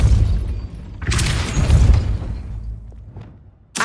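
Depulso spell blasts in the Hogwarts Legacy video game, deep booming bursts with a rumbling low tail, one big blast near the start fading away and another sharp hit at the very end.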